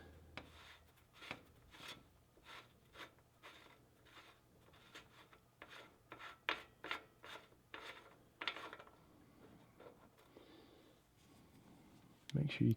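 A bicycle bottom bracket cup being loosened counterclockwise on the left side with a hooked tool, giving a run of repeated rasping, ratcheting clicks at close range with a heavier knock at the end.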